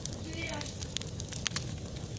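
A campfire crackles and pops outdoors in strong wind, with dense crackles over a constant gusting roar and a few brighter snaps standing out.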